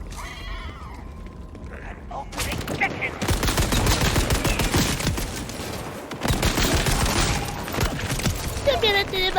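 Rapid bursts of gunfire from the video game Borderlands 4 crackle in dense volleys after a quieter start, loud and sustained with a brief pause midway, while players talk over it.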